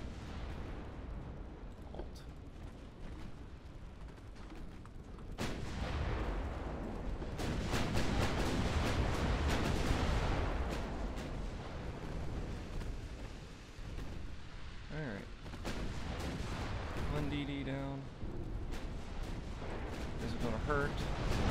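Naval gunfire from warships engaging a battleship in the naval strategy game Ultimate Admirals: Dreadnoughts, heavy booming rumbles and sustained blasts rolling across the battle, with a commander's voice giving orders over it.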